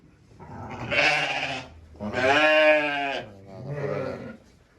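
A sheep bleats loudly three times in close succession, the middle call longest, with quiet between calls.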